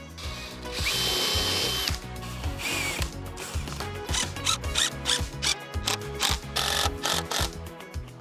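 A power drill drives screws into a wooden gate frame on the picket-covered side, with whining bursts of spinning and ratcheting clicks repeating close by.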